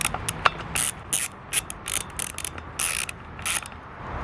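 A ratchet wrench clicks in quick, uneven bursts while tightening the spark plug on a small engine, the sharp metallic ticks close and fairly loud with short pauses between strokes.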